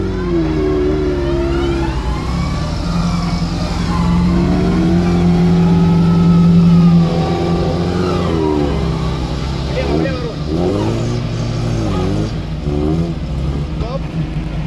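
An off-road vehicle's engine revs and wavers as it backs up on a rough tank-track road, with loud, close voices talking over it throughout.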